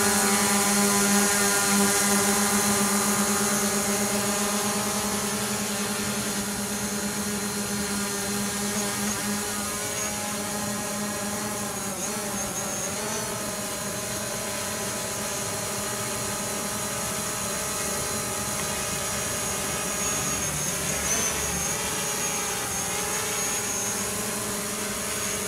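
A DJI drone hovers and flies back toward its landing pad, a steady buzzing whine of spinning propellers with rising and falling pitch as it maneuvers, continuous throughout.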